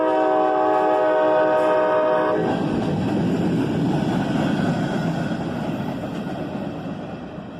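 A loud multi-tone train horn blasts for a couple of seconds, then the heavy rumble and roar of a CSX freight train with four locomotives rolling past, slowly fading.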